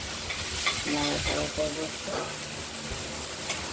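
Boiled banana stem curry (thor) sizzles and is stirred in a pan as coriander leaves go in, a steady close frying hiss with soft scraping and a voice speaking faintly underneath.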